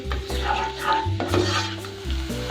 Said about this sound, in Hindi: प्याज हमारा थोड़ा सा फ्राई हो जाए